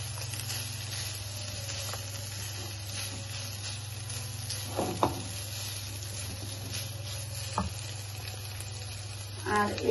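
Food being stirred as it fries in a pan for a dumpling recipe, a steady close sizzle throughout with a few soft scrapes and clinks of the spoon.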